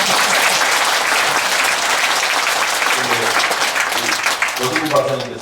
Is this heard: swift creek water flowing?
no